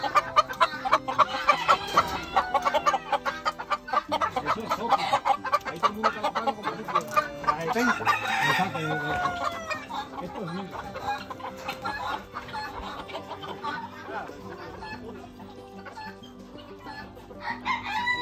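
Roosters and hens at a rooster farm in Ponce, Puerto Rico cluck and squawk nearby, with drawn-out crows rising over the busy farmyard chatter throughout.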